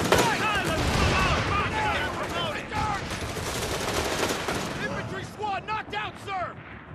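Dense machine gun and rifle fire in the World War II strategy game Company of Heroes 3, Italy campaign, rapid bursts continuing throughout with voices talking over the battle.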